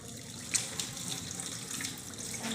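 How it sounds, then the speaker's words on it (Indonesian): Running tap water splashes over hands being rinsed at a sink during handwashing, a steady close stream with a couple of small splashy bumps. "dan bilas menggunakan air mengalir."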